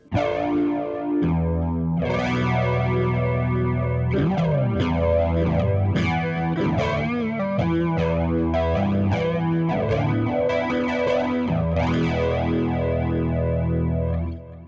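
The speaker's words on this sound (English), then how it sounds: "Maybe we can add some flanging to that tape echo. So I've got echo and flanging." Electric guitar played through a 50-watt practice amp with tape echo and flanging, loud strummed and picked phrases with swirling, repeating trails, no talking.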